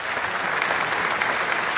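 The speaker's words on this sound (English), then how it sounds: "A round of applause for these 2." Dense, steady applause from an audience at an elementary school spring concert fills the room, a continuous wash of many hands clapping at once.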